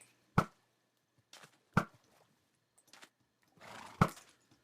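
Horse neighing and whinnying in a Minecraft-style survival game, several sharp loud calls spaced over a few seconds with brief clattering between them, no talk.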